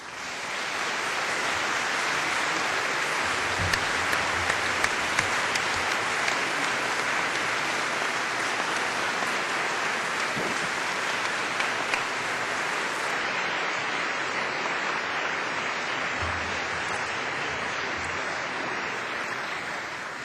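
A large audience at a 2005 Cardiff University graduation ceremony applauds in a dense, sustained roar of clapping that fills the hall steadily for about twenty seconds.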